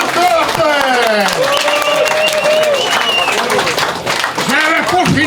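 Lively audience applause and cheering at an arm-wrestling tournament exhibition in Quebec, dense loud clapping mixed with shouts and whoops, continuous throughout with voices over it.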